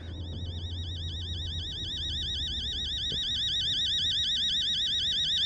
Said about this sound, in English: that's an annoying sound of the alarm